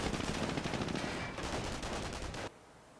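Machine gun fire in Company of Heroes: a dense, loud rapid burst of automatic shots rattling for about two and a half seconds before stopping sharply, leaving low background ambience.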